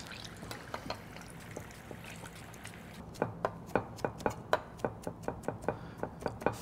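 A knife chops green onions on a cutting board for a Napa cabbage slaw, a few scattered cuts giving way to a quick regular run of crisp, close taps.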